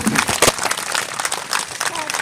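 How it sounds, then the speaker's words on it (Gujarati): Guests at a Christian wedding ceremony break into a short burst of applause, a brief crackling patter of many hands, close and fairly loud, under some talk. "આપણે તાળી પાડો"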